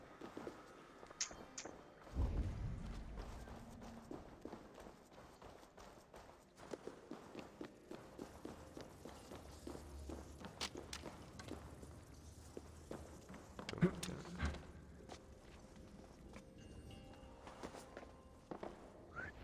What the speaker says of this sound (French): Les bruits de pas.